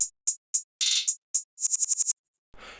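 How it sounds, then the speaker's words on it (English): Crisp open hi-hat hits from a trap beat sound alone in a syncopated pattern, short bright hisses with one longer wash and a quick run of rapid hits, ending in a brief soft tail. "Next to that, we have these open hats."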